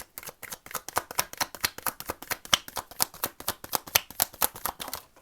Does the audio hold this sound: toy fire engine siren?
no